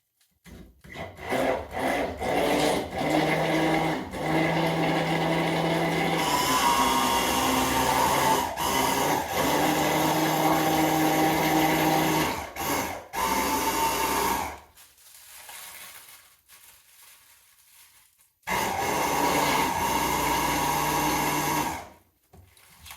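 An electric mixer whirs steadily while blending ingredients for a molecular chocolate-passion dessert, with a continuous motor drone that cuts out briefly and then starts up again near the end.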